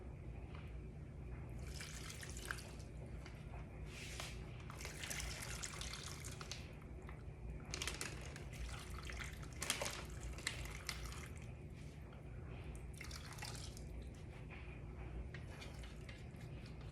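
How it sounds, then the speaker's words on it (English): Marinade is poured over chicken and onions into a freezer bag, quiet liquid trickling and squishy splashes coming in irregular bursts over roughly seventeen seconds, close and soft. "And let's pour our marinade over this carefully."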